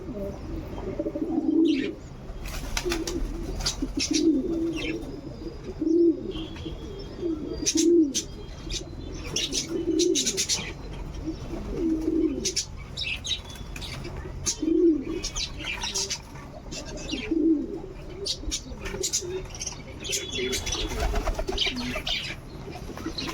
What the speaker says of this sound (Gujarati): આપણે આગળ ઉપર કબૂતર છે ને એને સણ નાખ્યા એ ભૂખા છે.